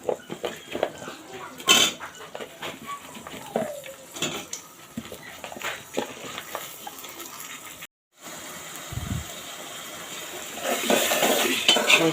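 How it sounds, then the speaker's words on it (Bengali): Chopped potatoes and onions tumble into spices in a pot for a rohu fish curry with tomato and are stirred, giving scraping clatter, utensil knocks and a brief sizzle up close, with a louder sizzling burst near the end. "এখন আমি এর মধ্যে আলু আর পেঁয়াজটা ছেড়ে দেব"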